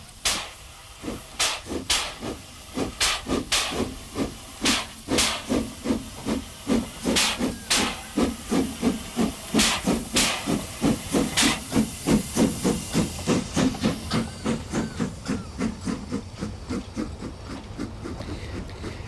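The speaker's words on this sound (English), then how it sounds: "the last place in Poland to see regular steam passenger trains on the narrow gauge." A narrow gauge steam locomotive in Poland chuffs rhythmically, the exhaust beats starting slow and quickening into a steady, loud pulse with a continuous hiss of steam.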